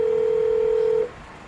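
A telephone call sounds a single steady electronic tone for about a second, then cuts off into quiet background.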